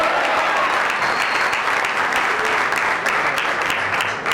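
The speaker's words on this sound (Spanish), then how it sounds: "eso merece un aplauso" Church congregation applauding together in a steady, dense wash of clapping that stays loud and even from start to finish, with no speech over it.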